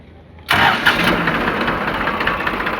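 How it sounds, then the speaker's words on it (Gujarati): A New Holland 3237 TX tractor engine fires up on its battery self-starter after a quiet moment, catching abruptly and then settling into a loud, steady diesel idle close by. "battery self start"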